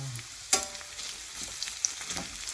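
Onions frying in a pan, a steady soft sizzle and crackle with a brief louder pop near the start, close and alone without any voices.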